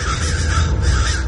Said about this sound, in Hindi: वही कौवे थे जिन्हें अभी अभी सपने में उसने देखा था।